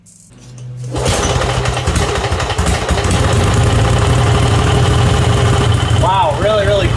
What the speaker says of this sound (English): let's see how this thing sounds with the new exhaust.